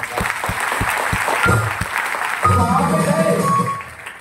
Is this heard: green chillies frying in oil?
no